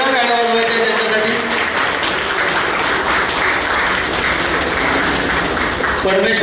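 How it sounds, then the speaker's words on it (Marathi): A dense, loud crowd of attendees applauding at an award felicitation ceremony in Pune, sustained and even for several seconds with no pause. "सर्वांनी एकदा जोरदार टाळ्या वाजवायच्या त्यांच्यासाठी"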